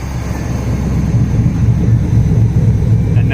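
Revving of a 400hp Nissan Hardbody truck engine, a steady low throbbing rumble with rhythmic pulses that holds loud and close throughout, no voices over it.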